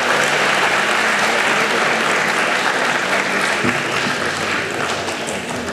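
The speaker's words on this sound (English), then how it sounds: "And just one round of applause for him" Sustained applause from a graduation audience at Ottawa Islamic School's 2016 ceremony at Algonquin College, a steady dense wash of many hands clapping for a graduate, fairly loud and continuous throughout.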